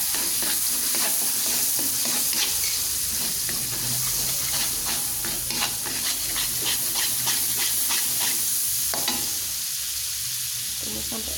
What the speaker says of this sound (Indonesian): Ini bumbu semua kita tumis sampai harum ya.